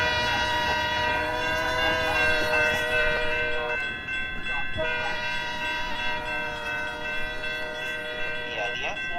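An EMD F40PHL locomotive in the Roblox video game sounds its multi-tone horn in long, loud sustained blasts, broken by a brief pause, over a low rumble of the train.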